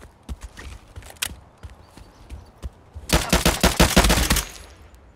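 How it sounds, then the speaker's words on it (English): M1A rifle shots in Escape From Tarkov, fired through a brick wall; a few loud, scattered cracks give way to a rapid, close cluster of shots before fading. "Shot him through the bricks, you know he's mad."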